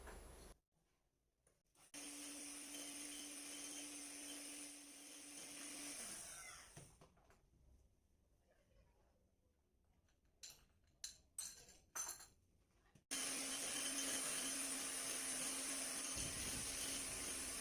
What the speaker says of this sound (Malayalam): അത് കുറേശ്ശെ ചേർത്ത് ഒന്ന് മിക്സാക്കി കൊടുത്താൽ മതി ലോ സ്പീഡിൽ.